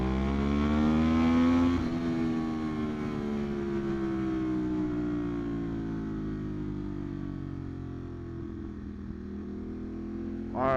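A Ducati Monster 821 Dark motorcycle engine revs and decelerates while riding, a strong harmonic exhaust note falling in pitch as the throttle closes, close and loud, with a brief rise in revs at the end.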